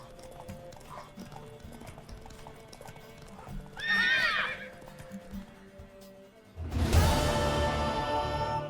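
Horse in The Witcher 3 video game gives a loud, bright neigh midway, followed by a burst of louder hoof and movement noise over faint ambient game sounds.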